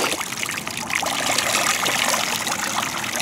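Water from a solar-powered garden fountain trickles and splashes continuously, a close, bright, steady burble with no voices.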